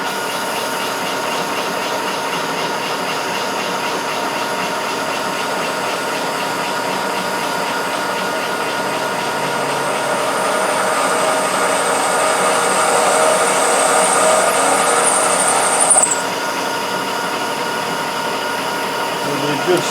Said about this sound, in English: We'll go ahead and we'll get our center drilled.